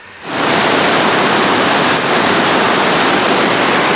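The Agua Azul waterfalls in Chiapas, swollen after rain, roar in a loud, steady rush of churning water that swells in within the first moment and holds constant.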